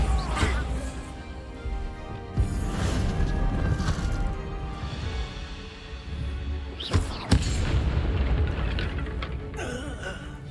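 Bombarda spell explosions in the video game Hogwarts Legacy land as several sharp, booming crashes at uneven intervals, set against a busy bed of combat noise and music.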